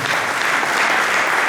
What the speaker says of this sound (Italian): facciamo un applauso anche ad Isabella